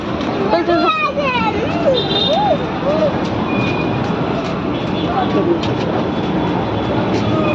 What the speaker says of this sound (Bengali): উপরে যাচ্ছে মেট্রো দেখা যাচ্ছে